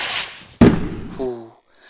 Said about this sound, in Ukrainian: Запускаємо всякі феєрверки, дивіться, різні є види.